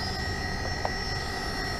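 An electric-powered PT-19 control line model airplane flies, giving a steady, even motor whine with a constant pitch for a brief moment, heard alone.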